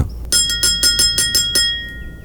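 A bell rings in a quick run of about seven bright, evenly spaced strikes, loud and close, then fades with a ringing tail and no voices.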